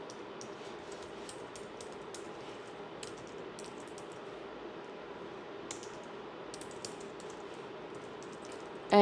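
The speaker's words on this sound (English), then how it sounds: "And now you're just going to type in your personal information." Fingers tap steadily on a computer keyboard, a quiet, close run of rapid key clicks with brief pauses.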